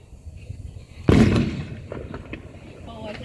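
A single firework bursts nearby with a sharp loud bang that trails off into crackling echoes, with other distant pops and voices around it at a backyard firework show.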